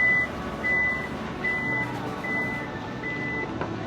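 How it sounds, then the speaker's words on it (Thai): An Isuzu MU-X 1.9 Ultimate power tailgate closes while a steady series of short, evenly spaced warning beeps sounds over a low hum of the parked vehicle. "เพียงสัมผัสทีเดียวค่ะ ฝาท้ายก็จะปิดลงอย่างนุ่มนวลค่ะ"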